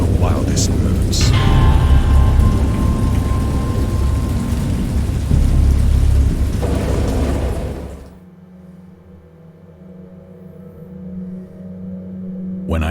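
Heavy rain with deep rumbling thunder, loud and full, easing off partway through to a softer, quieter wash of rain.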